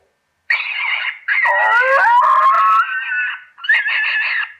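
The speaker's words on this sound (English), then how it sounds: "So there you go, you've got the rabbit screams." Recorded rabbit distress screams played through a predator caller at a hunting stand, loud, close and wavering in several drawn-out, tonal wailing bursts with short breaks between them.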